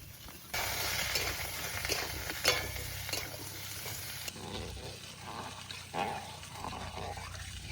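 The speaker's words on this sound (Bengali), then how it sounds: "এর মধ্যে এই বরবটিটা দিয়ে আর একটু ভেজে নেবো।" Yardlong beans fry in a pan of vegetables for village-style khichuri, a steady broad sizzle with occasional scraping stirs and light clinks throughout.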